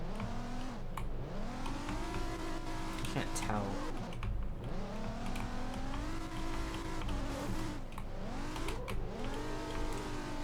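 A high-horsepower car, GTR or Supra, revs repeatedly in a garage, engine pitch sweeping up and down in rhythmic surges, loud and close, with people talking over it.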